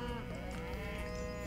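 A long, low cow moo in a video game, Age of Mythology: Extended Edition, drawn out steadily for over a second, close and clear.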